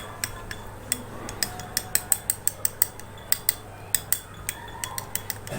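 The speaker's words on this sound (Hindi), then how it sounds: "इसको हम अच्छी तरह से मिक्स कर लेंगे" A spoon stirs rose water into a paste in a small bowl, giving a quick series of light, sharp metallic clinks and scrapes in an uneven rhythm, close and fairly quiet over a low steady hum.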